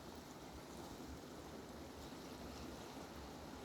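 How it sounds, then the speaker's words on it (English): Kern River water rushes steadily past a riverside campsite, a dense, continuous broadband wash of flowing current with no breaks, moderately loud and close. "it's nice to have the water sounds and"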